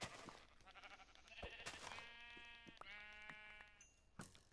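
Sheep in the video game Minecraft bleat in two or three drawn-out, wavering calls, loud and close, with a couple of sharp game clicks between them.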